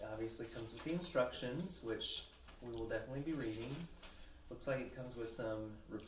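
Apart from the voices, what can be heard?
No everyday noise stands out behind the speech.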